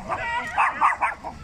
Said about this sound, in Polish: Co ten piesek taki nerwowy?